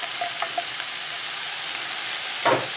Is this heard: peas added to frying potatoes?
yes